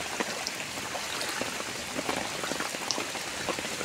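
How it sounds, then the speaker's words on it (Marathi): Water rushes and gurgles steadily through a rain-soaked resort property in Lonavla, a dense, continuous wash with small splashy bursts and no voices. "हे बघा किती छान खळखळ पाणी वाहते,"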